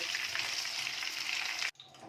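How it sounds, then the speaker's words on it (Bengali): Chicken pieces fry in oil that sizzles and crackles steadily up close, a continuous frying hiss that cuts off abruptly near the end. "ভালো করে ভেজে নিচ্ছি"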